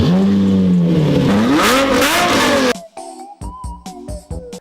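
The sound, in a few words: drift car engine revving as it is driven around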